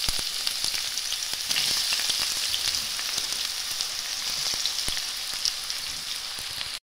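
Chopped onion frying in a pan of hot oil, a dense continuous sizzle with scattered crackles and pops, close and steady until it cuts off abruptly at the end.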